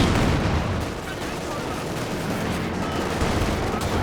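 Continuous rumbling battlefield din of tank gunfire and explosions in Company of Heroes 2, with Panzer IV and T-34/85 tanks in a 2v2 match, a dense steady roar without distinct isolated shots.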